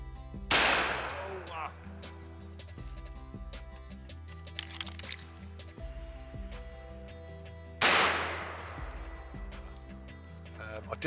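Shotgun blasts during a February pigeon roost shoot: two loud, sharp reports several seconds apart, each with a long decaying tail, over quieter background noise and music.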